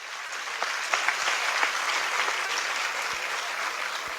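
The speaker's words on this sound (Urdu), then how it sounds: "زوردار تالی جائیں" A church congregation at a Palm Sunday Mass breaks into loud, sustained applause, with dense clapping that holds steady throughout and no talk over it.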